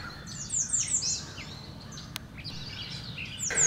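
Birds sing outdoors at Bartholomew's Cobble, with quick chirping phrases repeating over a faint, steady background hiss and no voices.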